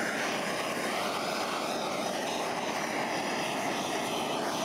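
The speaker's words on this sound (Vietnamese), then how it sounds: "Còn mình thì dùng một bình ga và đầu khò như thế này để thui nè." A gas canister blowtorch roars continuously while singeing the skin of a pork leg, a loud, steady, close hissing rush with no pauses.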